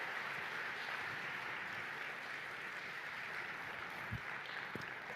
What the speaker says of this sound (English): the polite claps were appreciated